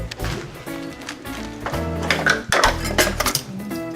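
Metal measuring cups clatter and clink against each other and other kitchen utensils in a continuous, busy, nearby rattle while ingredients are being prepared.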